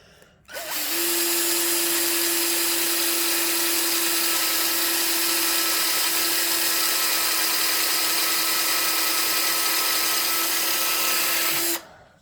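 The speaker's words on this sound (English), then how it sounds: "I'm gonna have to drill this one out too" A power drill drilling out a part whines steadily at high speed for about eleven seconds, close and loud, starting and stopping abruptly with no talk.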